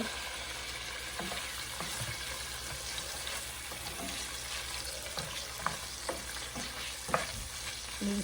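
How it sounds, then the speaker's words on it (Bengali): Prawns coated in soy sauce and a little salt fry in a pan with a continuous close sizzle, broken by repeated stirring scrapes and occasional metallic clinks. "এখানে আমি কতগুলো চিংড়ি সয়া সস দিয়ে আর একটু লবণ দিয়ে একটু মাখায় রাখছিলাম আর একটু ভাজা নেব"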